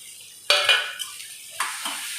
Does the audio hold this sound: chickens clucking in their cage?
no